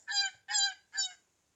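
A goose honks three times in quick succession in a children's animal-learning game, each call loud, nasal and clear, followed by a short silence.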